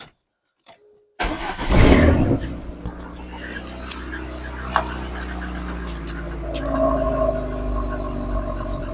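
A VAZ 099 car engine with a misfiring cylinder cranks and catches, then idles unevenly with a low rumble and occasional knocks and sputters, under faint background sounds.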